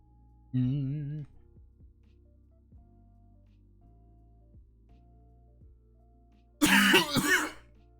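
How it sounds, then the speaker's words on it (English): A single cough or throat clear early on, then quiet, then a louder burst of several coughs near the end. "I'm coughing."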